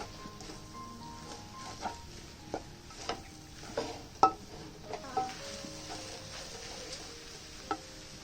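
Vegetables and bean sprouts hit a hot wok with flat rice noodles and sweet soy sauce for kwetiau, sizzling steadily while a spatula scrapes and clanks against the pan in regular strokes.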